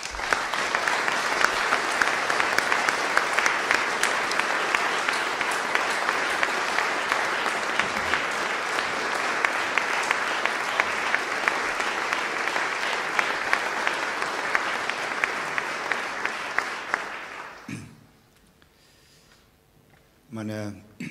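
Audience applause welcoming Dr. Hans-Georg Maaßen at a lecture in Munich: sustained, dense clapping fills the hall for about seventeen seconds, then cuts off abruptly into near silence with a brief rustle at the end.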